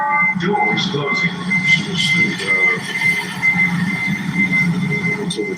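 A train at Jefferson Park station rumbles steadily with faint high wheel squeal and scattered clanks, and people talk over it throughout.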